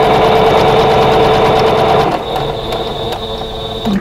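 Close, loud sewing machine runs a steady seam on a vintage quilt block, a fast even mechanical chatter that eases into a softer, slower whir with faint clicks near the end.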